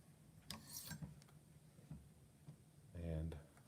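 A kitchen knife is sharpened in a few separate rasping strokes, with a louder scrape near the end, heard close and quiet.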